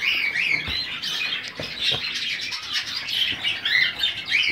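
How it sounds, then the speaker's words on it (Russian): Birds in aviaries give repeated sharp chirps and squawks over a busy background of calls, fairly near and steady throughout, with no voices. "ну там еще кричат птички"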